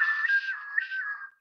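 A voice imitates a beatbox double whistle: a high, sustained whistle-like tone with two swelling pulses, close and fairly loud, fading out at the end, with no talking over it.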